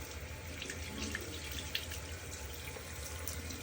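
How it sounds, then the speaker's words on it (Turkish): Running tap water rinses shampoo foam from hair during a first wash after a hair transplant, a steady soft splashing stream that continues alone throughout. "hiçbir şekilde temasta bulunmadan suyla köpüğümüzü güzelce duruluyoruz"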